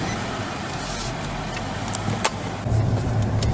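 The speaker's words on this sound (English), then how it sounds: "we're just now leaving Alan's house" A car pulls away from a house, its engine a steady rumble under road noise that swells near the end, with a brief click or thump in the middle.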